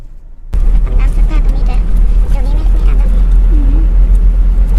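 A car drives in to park at a wooden house, its engine a steady low rumble close by that starts abruptly and continues evenly, with someone talking over it.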